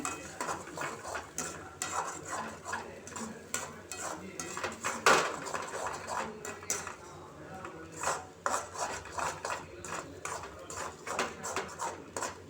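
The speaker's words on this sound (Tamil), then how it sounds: "முட்டையை நல்லா கிண்டி விட்டுட்டு" Egg being stirred in a pan for mutta parotta, a spatula scraping and clinking against the metal in quick irregular strokes, close and steady with one sharper knock near the middle.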